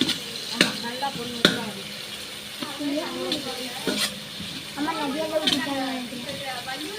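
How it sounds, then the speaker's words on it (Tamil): Onions sautéed and stirred in a pan for a home biryani, a soft sizzle with a few sharp spoon clicks against the pan, while a voice talks over it throughout. "வெங்காயத்தை நல்லா வதங்கணுமா? பொன் வறுவலாக வதக்கணுமா?"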